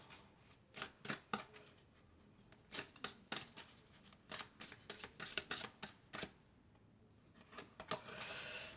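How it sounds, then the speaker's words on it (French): Oracle cards shuffled by hand in a quiet room, a long run of crisp, papery riffling bursts in an uneven rhythm, close and moderately loud, ending in a slightly longer rustle. "Alors on va prendre encore une dernière carte."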